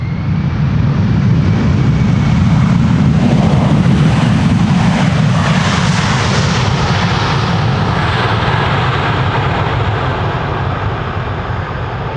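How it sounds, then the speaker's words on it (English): A Saudi Boeing 747 jet arriving at Schiphol airport roars loudly and steadily overhead, a broad continuous rumble that holds throughout with a slight fade near the end. "First 747 of the show, Saudi flight 933."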